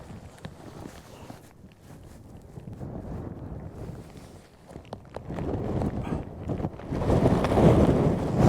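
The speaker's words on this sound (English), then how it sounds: "there's some fierce gusts coming through" Fierce, blustery wind on an Irish hillside buffets the microphone in rough, rumbling gusts that swell louder toward the end, with no talking.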